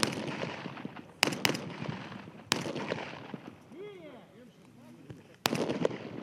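Gunfire during weapons training sounds as sharp, loud single shots scattered irregularly across the clip, with a sustained sharper crack near the end, alongside people talking nearby.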